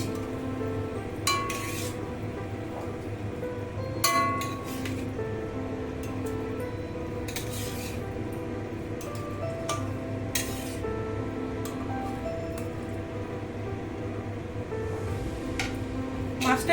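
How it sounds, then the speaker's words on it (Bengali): Pieces of boal fish slip one by one into a bubbling mustard-poppy seed gravy, a steady simmering hiss broken by a few sharp clinks of utensil against pot. "ঝোলটা ফুটে গেছে, এবার মাছগুলো আমি এক এক করে ছেড়ে দিচ্ছি"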